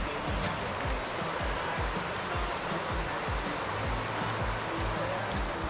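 The Pellice river flows through its valley in a constant, full rushing roar of water, close and steady throughout with no pauses and no talk.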